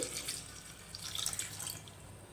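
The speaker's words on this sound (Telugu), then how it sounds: "మరో 1 గ్లాస్, ఇంకో గ్లాస్ పోస్తున్నానండి." Water from a glass is poured into a cooking pot of potatoes, a faint, close trickling and dripping splash lasting a couple of seconds.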